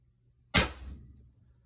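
A single loud, sharp crack of an HDR68 less-lethal launcher with a 16-joule valve, HD24 pin kit and 850 hPa air firing a 10-gram ball, snapping out of silence and tailing off quickly.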